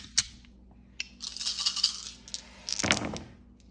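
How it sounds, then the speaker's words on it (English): Seven dice rolled and clattering during a wargame, with a sharp rattle at the start, a busy burst of tumbling in the middle and a final clatter as they settle, heard fairly close with no talk. "So we are going to be rolling 7 dice at 6."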